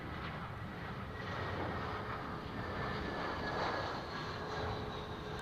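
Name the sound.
Dash 8 turboprop aircraft at Heathrow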